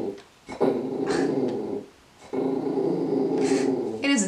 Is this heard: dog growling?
yes